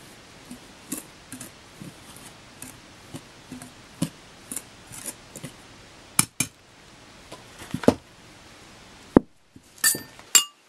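Carrot cake batter is stirred in a bowl, with a utensil clinking against the sides in a steady series of sharp, close taps, later giving way to a few louder knocks, and no talk over them.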